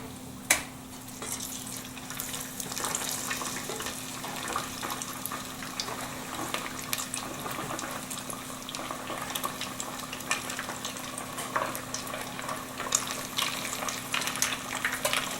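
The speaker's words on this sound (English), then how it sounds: "Now I'm gonna put my nuggets in. I'm gonna put them all in one batch and fry them for the second time." Homemade chicken nuggets deep-frying in grease at 350 degrees, a steady bubbling hiss with scattered crackles and a low hum underneath, continuous and moderately quiet.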